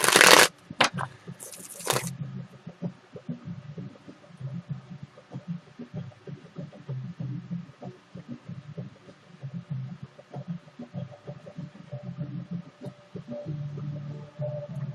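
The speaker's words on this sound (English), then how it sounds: "I'm just going to sit here and shuffle my cards" Playing cards shuffled by hand over and over in a quiet room, soft repeated riffles and taps at a steady pace, faint and close.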